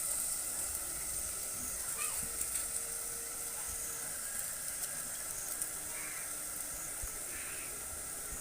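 Onions sizzle steadily in a pan for a Godavari-style fish curry, a constant broadband frying hiss holding level throughout with a few faint clinks and brief soft sounds over it, no talk.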